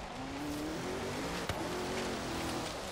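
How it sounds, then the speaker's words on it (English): Ford Mustang engine in Forza Horizon 3, a steady sustained drone holding a rising then settling pitch, with a brief click midway and faint tire noise underneath. "I do really like the sound of this car, though."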